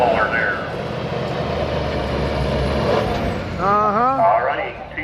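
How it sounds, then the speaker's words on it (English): A 2010 Kenworth W900 semi truck with a Cummins ISX15 engine rumbles loudly at a truck show and pull, with an air-brake hiss, while an announcer talks over it. "a 2010 Kenworth W900. Got the IS615 Cummins"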